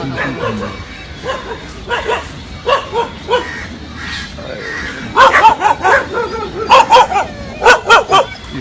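Several dogs bark in Lodhi Garden, Delhi, in short repeated bursts that grow louder and more rapid toward the end, with a few yips and whimpers mixed in under faint outdoor background noise.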